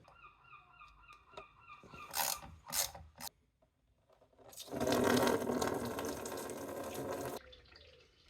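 A ratchet clicks as the coolant drain bolt is undone on a Honda XL700V Transalp motorcycle, a few quiet metallic clicks followed by a steady rush of draining coolant, close and fairly faint.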